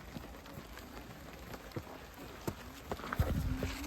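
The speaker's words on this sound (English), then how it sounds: "No, this rain is getting stronger." Rain falling at the Octagon ruins of ancient Philippi, a steady patter with scattered drops that swells and grows heavier toward the end, mixed with faint outdoor movement.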